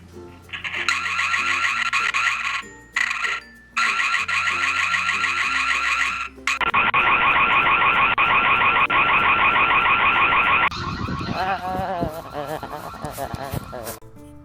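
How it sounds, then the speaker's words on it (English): Ring Spotlight Camera security alarm siren blaring loudly, first in repeated pulsing bursts, then switching to a sustained continuous wail and a warbling tone. "I can activate the alarm to scare him off."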